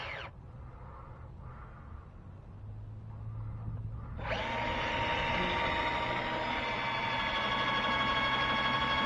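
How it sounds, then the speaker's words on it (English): A Dremel rotary tool whirs up to a steady high-pitched whine after a few quieter seconds, running continuously and loud up close. "If the drill doesn't do it, I gotta get the Dremel."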